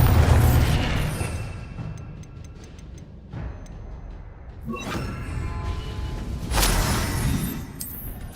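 Bombarda spell blasts in Hogwarts Legacy, with a deep rumbling boom at the start and further booming impacts later, mixed with ticking chimes and magical whooshes from the game.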